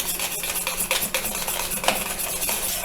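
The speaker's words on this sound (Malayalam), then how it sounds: "തൈരിൻ്റെ കട്ടയൊക്കെ നമുക്ക് നന്നായിട്ട് ഉടച്ചെടുക്കാം." Two cups of curd are whisked in a bowl to break up the lumps for a Kerala-style moru curry, giving quick soft scraping and light clinking strokes at close range.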